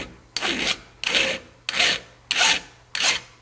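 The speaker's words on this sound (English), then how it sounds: "Let's go ahead and file that down. I have several of these flat files around." A flat file worked across the depth gauge of a chainsaw chain, five even rasping strokes about two-thirds of a second apart, each a close gritty scrape with short pauses between, no voices.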